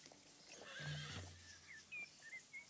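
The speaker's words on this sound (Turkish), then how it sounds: "Bunlar at. At olduklarına eminim ama burada ne işleri var anlayamadım." Several horses neigh and whinny in a cartoon scene, a loud whinny rising mid-clip over faint hoofbeat clip-clop, followed by shorter distant neighs trailing off, with no talking.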